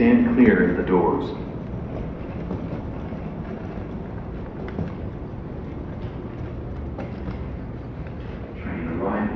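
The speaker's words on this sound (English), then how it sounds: "Train arriving." An airport terminal shuttle train arrives at O'Hare in Chicago with a low, steady rumble and whooshing air in an enclosed station, and a voice speaks over the start.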